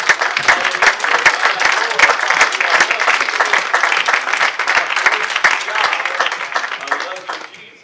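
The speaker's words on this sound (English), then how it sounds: "And why don't we clap our hands to Jesus?" A church congregation claps along together, dense steady hand claps filling the room with voices mixed in, fading slightly at the end.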